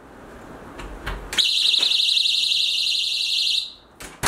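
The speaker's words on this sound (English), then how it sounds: "if someone were ever to open it, those metal pieces would separate and it would start an alarm" After a few clicks, a loud, piercing electronic alarm from a Lewis & Clark travel door alarm shrieks continuously for about two seconds, then stops, followed by more handling clicks.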